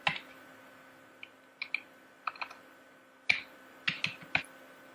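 Sparse, irregular clicks of keys being typed on a computer keyboard while a question is entered, quiet and close with short pauses between small bursts, no voices.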